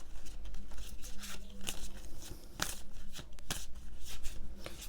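Oracle cards shuffled in the hands, a continuous close riffling and flapping patter with occasional sharper snaps as cards are drawn, steady and moderately loud with no voices.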